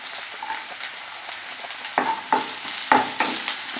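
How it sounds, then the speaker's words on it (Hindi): Finely chopped onion and chillies fry in a pan for veg pizza puff filling. A continuous crackling sizzle is broken by several sharp spatula scrapes and knocks, growing busier in the second half. "इसको अच्छे से भूनने देंगे और साथ में ही ये मिर्च ऐड कर देंगे"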